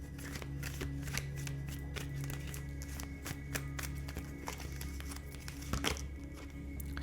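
A deck of oracle cards is shuffled by hand, giving soft riffling and tapping clicks in an irregular rhythm over a steady low hum, close and quiet, with a sharper snap near the end.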